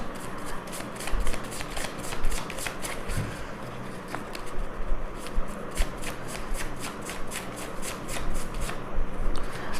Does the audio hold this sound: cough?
no